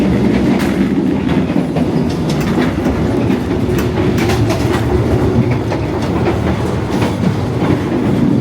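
An Indonesian economy-class Mataram passenger train rumbles steadily along the rails with a continuous low roar and faint rhythmic clacking, heard from inside.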